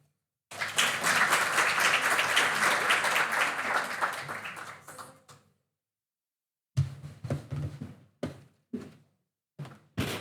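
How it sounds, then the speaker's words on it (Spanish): An audience at a panel event in Chile welcomes a speaker with a burst of applause that fades out after about five seconds, followed by several separate single knocks or thumps. "Recibimos con un aplauso a Carolina."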